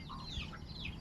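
Chickens cluck on a farm in the Philippines, faint soft calls over a brief moment amid quiet outdoor ambience.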